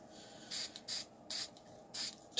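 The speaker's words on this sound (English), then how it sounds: "while you're spraying your paint." Paint sprayed onto a Ford Thunderbird body in short bursts, four distinct hissing passes with brief gaps between them, close and moderately loud with no talking.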